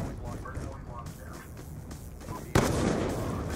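Black Ops 2 gameplay with busy, muffled action and voices underneath, then a sudden loud sniper rifle shot cracks out and leaves a dense, noisy wash behind it.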